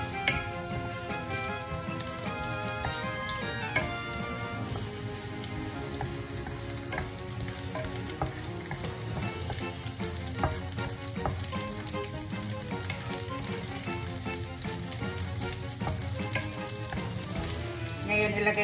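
Garlic fries in a hot wok for a Filipino mixed-vegetable stir-fry with shrimp, giving a steady, dense, close sizzle that runs unbroken throughout with no talking.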